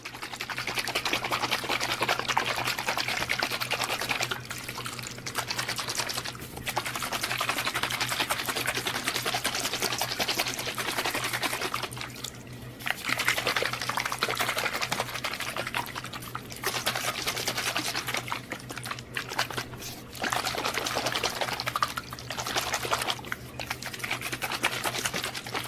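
Skateboard bearings shaken hard inside a closed container of cleaning liquid, a steady rapid rattling slosh in long bursts with brief pauses, close and fairly loud.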